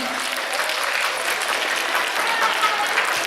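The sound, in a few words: applause for a little girl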